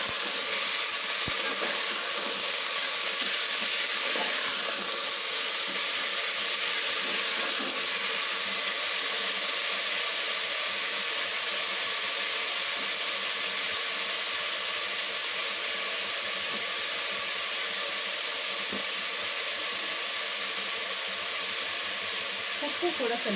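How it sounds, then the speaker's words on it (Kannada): Vegetables sizzle steadily in a hot pan for wedding-style sambar, a constant close frying hiss with occasional stirring clinks, running unbroken throughout. "ಇದು ಕೂಡ ಸ್ವಲ್ಪ ಫ್ರೈ ಆಗಿ."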